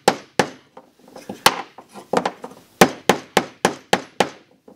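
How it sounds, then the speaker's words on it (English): A large hammer tacks pieces of wood firmly into place, a run of sharp, loud, close strikes, irregular at first, then a steady even rhythm of about one blow every third of a second. "We're just going to tack everything in nice and firm with the daddy hammer."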